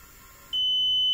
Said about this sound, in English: it gives the alarm with the help of the buzzer, which beeps